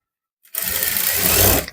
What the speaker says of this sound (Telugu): ఇలా ఒక స్టిచ్ అయితే వేసుకుందాం.